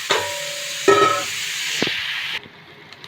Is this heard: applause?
no